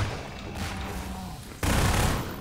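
Rapid weapon fire in Half-Life 2 Episode 2, a dense continuous burst of shots with no gaps, loud and close, surging louder partway through.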